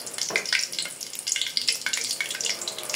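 Dried chili hits hot oil in a heated wok and sizzles, a steady bright crackle with scattered pops that holds for a few seconds.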